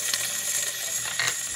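Internals of a rebuilt Corvair aircraft engine being turned by hand, giving a close, continuous metallic ratcheting rattle with a couple of brighter clicking bursts.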